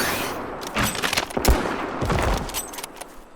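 Rapid bursts of gunfire at point-blank range against a raptor in a prehistoric hunting video game, several sharp close shots clustered together over a few seconds with no talking.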